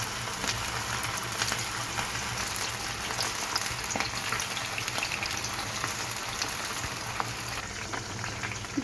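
Marinated cashew chicken pakodi crackles in hot deep-frying oil in a kadai, a fairly faint, even bubbling fizz that continues steadily throughout with scattered small pops.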